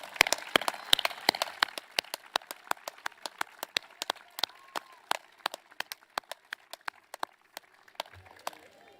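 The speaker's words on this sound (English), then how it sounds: "give a round of applause to your family, to your friends, to those that have helped you get to this point" Sparse, scattered clapping from graduates at a Bethel University commencement, a ragged run of separate sharp claps at varying loudness, thinning toward the end, quiet overall and with no talk.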